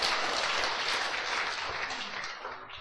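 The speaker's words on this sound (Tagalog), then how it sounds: "Palakpak ni Jesus Christ." A church congregation claps in praise of Jesus Christ during a night worship service, a dense wash of applause that holds steady before slowly thinning and fading toward the end.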